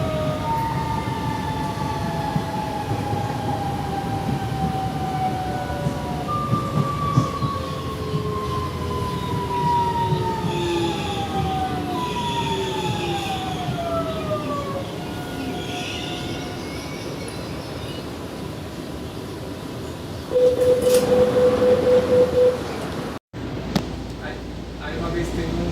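Inside a moving TUE Series 8900 Alfa commuter train, a steady rumble runs under gliding, whining motor tones, with a short steady tone near the end before the sound cuts off.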